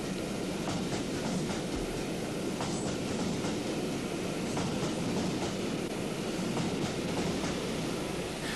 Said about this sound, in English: Here she enters King's Cross with the Silver Jubilee streamlined train, non-stop from Newcastle in 4 hours.